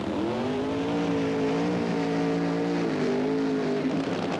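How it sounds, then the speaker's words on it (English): A 1977 NHRA Gatornationals Funny Car, the Blue Max driven by Raymond Beadle, holds a long smoky burnout, a loud steady engine roar with wavering pitch and no break. "A long, smoky burnout."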